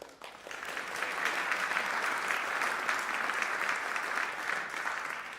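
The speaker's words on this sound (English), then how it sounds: "How about a round of applause for Sarah?" An audience at a jazz quartet concert claps and applauds steadily for several seconds, dense and even, then begins to taper off.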